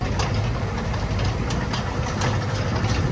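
A tractor engine chugs steadily during a farm ride at an agro resort near Pune, a loud, continuous low rumble with rhythmic knocking and rattling, heard close up without talk.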